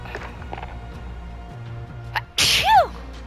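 A single sharp human sneeze bursts out near the end after a quiet stretch of faint room noise, loud, close and brief with a breathy trailing tail.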